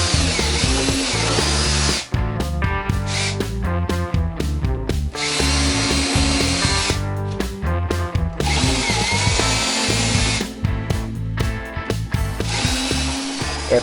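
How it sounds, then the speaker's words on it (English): Power drill widening holes in the back of a broken surfboard being repaired with wood and epoxy, a loud, continuous whirring grind that stops briefly a few times and then restarts, close up with no talking. "After widening the holes with the drill and doing some hand sanding"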